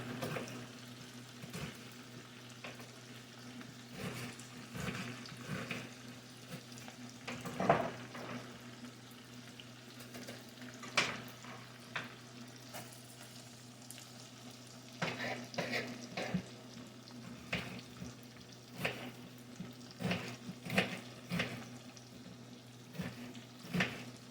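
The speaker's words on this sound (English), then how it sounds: "You want to fry those onions." Onions frying in a pan over lowered heat for German potato salad, a faint, uneven sizzle with occasional stirring clatters and a steady low hum in the background, no talking.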